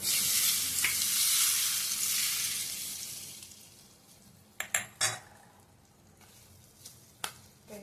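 Mango pickle mixture with cumin and a pinch of asafoetida being stirred, a soft sizzling hiss fading over a few seconds, followed by several distinct clinks of a spoon against the pan.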